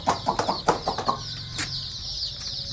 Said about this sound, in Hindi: इधर हमारे पास ज़्यादा चूज़े हैं क्योंकि इधर इनके लिए दाना मौजूद है